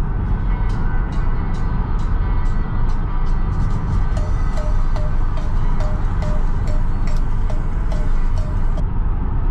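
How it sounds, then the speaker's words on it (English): A Tesla Model Y cabin playing a novelty cowbell tune through its speakers, a loud rhythmic string of evenly spaced cowbell strikes over a dense, steady music track, with no talk. "there is just no reason that we should have Will Ferrell playing the cowbell on the Tesla"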